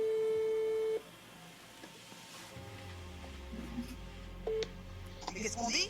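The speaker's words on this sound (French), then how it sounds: "je l'appelle en haut-parleur" A phone call ringing on speakerphone: a steady tone for about a second, then a dial-tone-like buzz, a short beep later and a brief burst of connection noise, fairly quiet.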